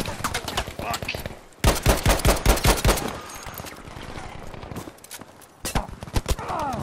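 MG42 machine gun fire in Battlefield 5: loud, rapid rattling bursts from close by, with a dense stretch of shots in the middle, mixed with scattered gunshots and game battle noise.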